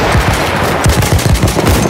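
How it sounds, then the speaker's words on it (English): Enemy machine gun fire in a Battlefield game hammers out as a loud, close, continuous stream of rapid shots with a steady rattling rhythm and no voices over it. "Enemy machine gun!"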